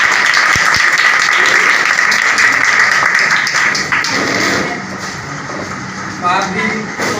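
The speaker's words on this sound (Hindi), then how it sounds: "जोरदार तालियां।" Loud applause from a school crowd for an essay competition prize winner, sustained dense clapping that gradually fades, with some voices mixed in toward the end.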